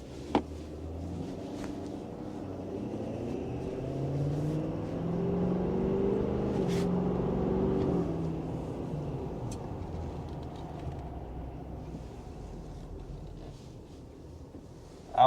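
A Ford F-250 Super Duty truck driving on a road in Florida, with a steady engine and road rumble that swells in the middle as it turns around. A few faint clicks can be heard and the noise ends in a sharp bump.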